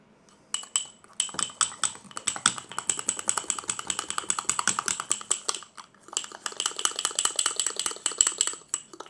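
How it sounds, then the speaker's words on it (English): A fork stirs emergency food in a container, giving a dense run of quick clinks and scrapes that pause briefly near the start and again around the middle, close and fairly loud, with no talking. "We're gonna stir that up with fork."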